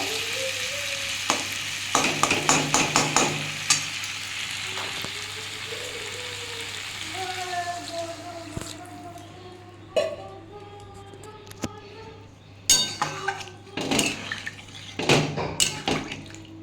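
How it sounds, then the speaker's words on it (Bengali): Water poured into a hot pan of soybean curry with potatoes sets off sharp sizzling bursts and hissing, joined by a few clinks of a utensil against the pan, fairly close and with no talk. "আমি এবার এতে জল ঢেলে দেবো"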